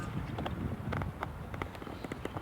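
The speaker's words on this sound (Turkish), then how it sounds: "rüzgar çıktı gördün mü" Steady low rumble of wind buffeting the microphone, continuous and close, with faint scattered clicks over it.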